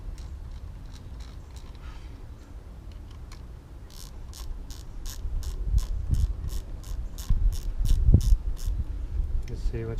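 An Allen wrench loosens bolts on a motorcycle fairing with rapid ratcheting clicks in bursts, growing louder and busier midway, alongside faint handling clunks.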